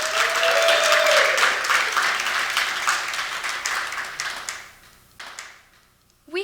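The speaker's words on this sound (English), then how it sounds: "please give them a hearty round of applause" Hearty round of applause from the audience at a Japanese New Year's celebration banquet, a loud wash of clapping that thins out over several seconds, leaving a few scattered claps before a final burst.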